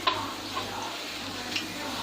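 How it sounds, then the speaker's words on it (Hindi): Chicken and vegetable rolls fry in hot oil with a soft, steady sizzle and a few faint clicks, heard close and quietly with no talk. "देखें ऑयल बॉयल हो रहा है, इसी तरह आपने करके डाल देने"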